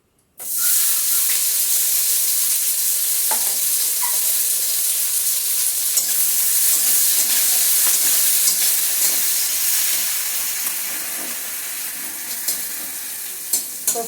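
Chopped onions hit hot oil alongside whole bay leaves, bursting into a loud, steady sizzle that holds strong and then eases slightly, with occasional crackles and spoon clicks, no voices.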